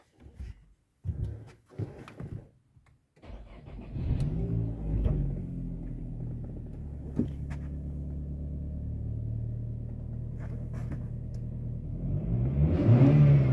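A Renault car's starter cranks in a few short bursts before the engine catches, settles into a steady idle, then revs up louder at the end.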